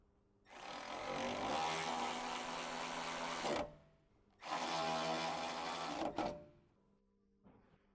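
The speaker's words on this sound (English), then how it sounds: "use the 8mm socket with the electric ratchet to run on the hardware" An electric ratchet fitted with an 8mm socket drives fender liner hardware on a 2007-2018 Jeep Wrangler: two loud, sustained whirring runs of about three seconds each, then a brief faint buzz, with no voices.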